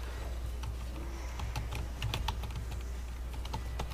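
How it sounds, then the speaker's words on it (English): Rapid typing on a computer keyboard, an irregular run of close, crisp key clicks building into a quicker burst midway, over a steady low hum with no speech. "I gotta type this message for real quick"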